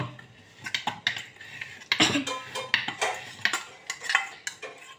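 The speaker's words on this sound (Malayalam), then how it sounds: "അതിൽ പാൽ വെച്ച് നമുക്ക് ഇളക്കാം" Milk being stirred in a pot for Oreo ice cream, a utensil clinking and scraping against the metal in irregular nearby bursts, with no talking.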